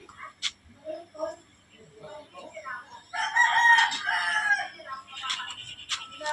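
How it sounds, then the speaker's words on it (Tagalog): Crowing from a white kelso Firebird line gamefowl rooster rises loud and sustained midway, with shorter calls and clucks around it and someone talking underneath. "Magandang manok, magaling din ito."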